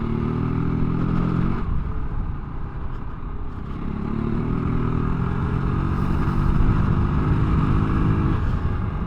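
A Kove 450 Rally adventure motorcycle is ridden steadily at about 50 mph through cactus-lined terrain, its engine droning loud and continuous with wind rush and mechanical clatter throughout.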